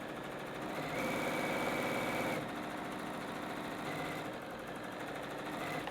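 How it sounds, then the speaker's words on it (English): A sewing machine stitches strips of quilting fabric together, a steady mechanical whir with rhythmic needle chatter that shifts in pace partway through, close and alone with no talking. "So let's get our strips sewn together."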